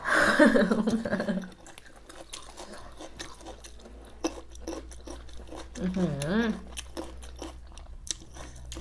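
Crisp crunching bites into raw carrot, close to the mic, with a voice speaking in between the crunches.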